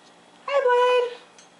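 A cat gives a single clear meow lasting under a second, close by in a quiet room, with faint background sounds before and after.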